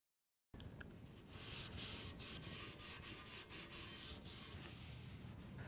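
A rag wiping rust residue off raw metal on a Prerunner bumper, a series of close, bright rubbing swipes in quick rhythm, each stroke a short hissing scrub, with no talk.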